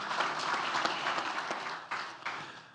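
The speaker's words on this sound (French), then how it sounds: "Je vous demande d'applaudir une dernière fois cette belle initiative." Audience applause at the opening ceremony of the Mali Digital Awards, a short dense burst of many hands clapping that fades away near the end.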